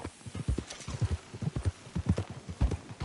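Horse hooves clip-clop in Red Dead Redemption 2, a quick uneven run of close, muffled thuds forming a steady trotting rhythm, with no voices over it.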